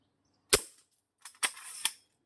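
A slide-action slingshot gun fires: one sharp, close snap, followed a moment later by two more crisp clacks of the mechanism, with silence around them.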